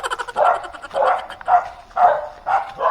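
A dog barks repeatedly at a steady pace, about six sharp barks close by, with nothing else in between.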